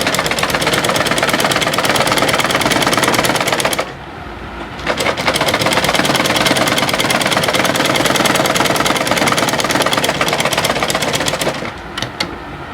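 Sewing machine stitching a back dart on a pleated peplum gown, running loud and steady with a rapid mechanical needle clatter, pausing briefly near the middle and again near the end before continuing.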